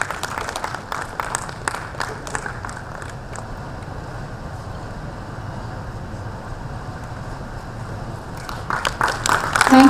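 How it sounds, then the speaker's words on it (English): Conference audience applauding a speaker, a dense roar of clapping that starts strong, tapers to a steady wash, then swells loudly again near the end. "A big round of applause to Deepak Prabhu"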